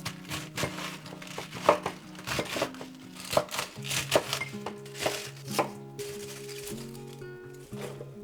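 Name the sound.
chopping cabbage with a knife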